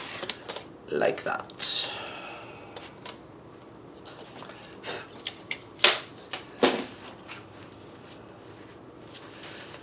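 A paper doily being trimmed with scissors for a junk journal, giving scattered short snips and crisp paper rustles at close range, with a few quiet spoken words.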